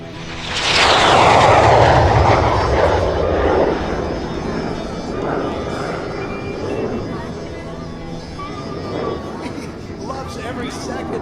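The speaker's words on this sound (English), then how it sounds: "the F indicating that it was a VK-1F engine with an afterburner." Jet aircraft engine roar from a 1959 Polish-built MiG-17F with a VK-1F afterburning engine at a night air show, loud and sweeping past early then fading into a long distant rumble.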